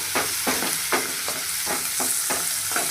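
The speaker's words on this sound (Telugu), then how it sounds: "ఆవాలు జీలకర్ర కూడా ఫ్రై అయిపోయిన తర్వాత ఆనియన్స్" Mustard seeds, cumin and chopped onions sizzle in a hot pan for amaranthus curry, with a spoon scraping through them in steady rhythmic strokes, about six in quick succession, close and loud.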